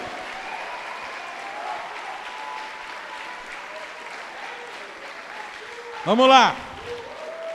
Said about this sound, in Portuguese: Então dá uma salva de palmas para o Senhor Jesus.